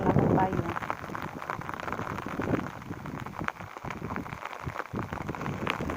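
Heavy rain pours down on a corn field during planting, a dense, steady hiss close by, with voices speaking over it.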